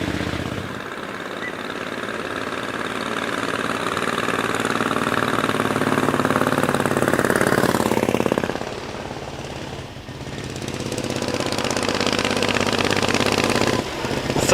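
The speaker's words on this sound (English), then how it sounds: "I hear the distinctive chatter of a V-twin." Vintage Vitesse car with a V-twin engine climbing a hill-climb course, its chattering, pulsing engine loud and continuous with a brief dip midway before picking up again.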